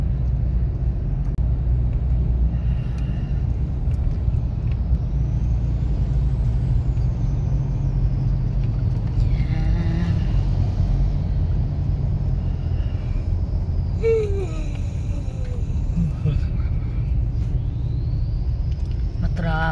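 Road traffic heard from inside a car during a trip, a steady low rumble of engines with a hiss of air brakes from a nearby truck, while people talk in the car.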